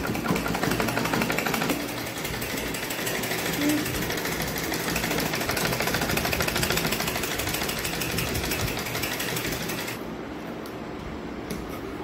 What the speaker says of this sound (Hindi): बिल्कुल किनारे पर सिलना है, बिल्कुल एज पे, बिल्कुल किनारे एज पे सिलाई होनी चाहिए।